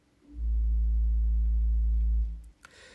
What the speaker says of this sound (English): If you listen closely, you can hear a sort of white noise right as the pipe begins speaking.